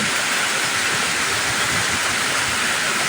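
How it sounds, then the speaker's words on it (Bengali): Heavy rain pours outside in a steady, dense roar of hiss, loud and unbroken throughout with no voices. "বাইরে প্রচন্ড বৃষ্টি হচ্ছে"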